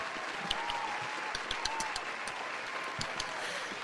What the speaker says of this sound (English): Let's go ahead and give him a hand clap.